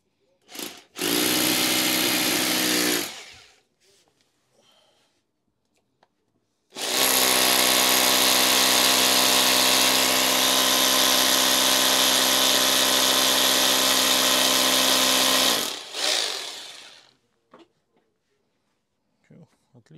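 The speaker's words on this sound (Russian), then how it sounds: "Сейчас в пенек посверлим." A Nocord NHD 800 rotary hammer drills into a wooden tree stump, with a short burst of drilling, a pause, then a long sustained run of several seconds, loud and close.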